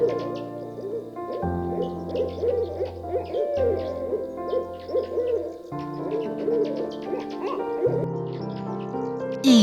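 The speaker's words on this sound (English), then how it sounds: "Owl. It's an owl." An owl hoots clearly and repeatedly over a steady musical background, the calls near and prominent.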